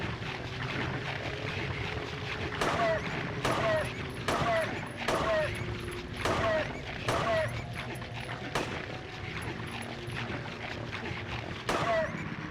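Gunfire in the video game Silent Hill 3, roughly eight sharp shots spaced under a second apart over a low, murky in-game ambience.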